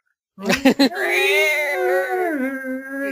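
Screechy violin playing during a podcast: a few short scraping strokes, then a harsh, sustained, wavering high tone that bends slightly in pitch and rings loudly for a couple of seconds.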